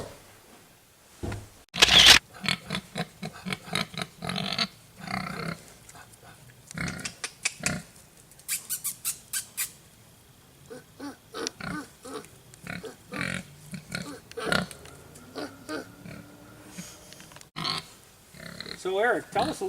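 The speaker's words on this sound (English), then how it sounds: "I have 7 pigs, and this is a sow, and she'll hopefully have piglets sometime this fall." A sow and other pigs on a small farm give short, low grunts and oinks in a rhythmic series, close by, while people talk over them and a camera shutter clicks.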